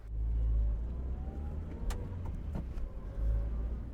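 A car pulls away on a road, its engine rumbling loudly and close, easing off, then swelling again near the end, with a few light clicks and rattles in between.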